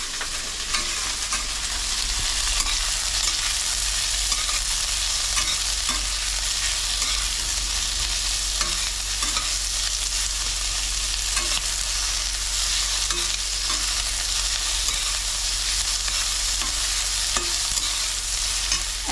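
Shrimp sizzle steadily in hot oil as onion and green chili are stirred through, scraping and frying sounds continuous and close for the whole stretch, with no talk over it.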